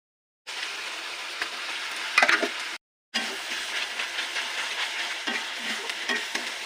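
Tomato and spice masala with garlic and cumin paste and chilli powder frying in a pan, a steady close sizzle with scraping stir strokes, briefly cut off by a short silent gap before it resumes.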